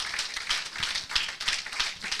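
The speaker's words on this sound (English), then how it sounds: "let's give him a big round of applause." A small audience at an institute's general meeting gives a round of applause, a few hands clapping in uneven, pulsing bursts nearby, with no talking.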